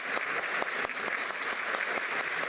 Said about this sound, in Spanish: Fuerte las palmas para nuestro general.